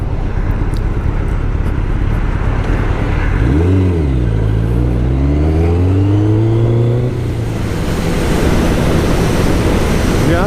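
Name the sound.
Kawasaki Ninja ZX11 motorcycle riding, engine revving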